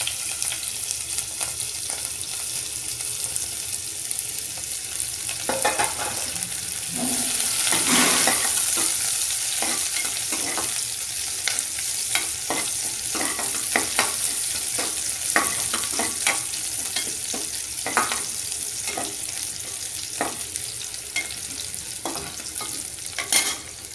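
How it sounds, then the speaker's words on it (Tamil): Onions frying in oil with crackled fennel seeds, a steady close sizzle with frequent stirring scrapes and clicks throughout, no voices. "சோம்பு பொரிஞ்சிருச்சு. இது கூட நம்ம வெங்காயத்தை சேர்த்துக்குவோம்."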